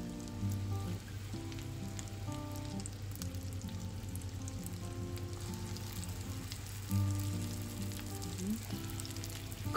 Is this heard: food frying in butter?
yes